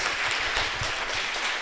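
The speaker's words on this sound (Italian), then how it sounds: "3 applausi, uno per voi e per la vostra concentrazione" Audience clapping steadily after a talk, a dense even patter of many hands at moderate loudness that continues throughout without voices.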